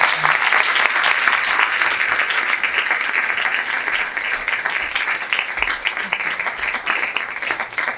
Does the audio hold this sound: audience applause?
yes